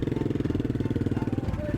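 A Royal Enfield cafe racer motorcycle, an Interceptor 650 or Continental GT 535, idles with a steady, thumping exhaust pulse close by, its even low rhythm continuing for a couple of seconds.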